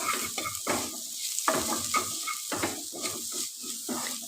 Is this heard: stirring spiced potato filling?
yes